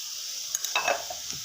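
Sautéed onions with salt being stirred in a pan: a few soft scraping and clinking strokes of a spoon against the pan over a faint sizzle, close and quiet.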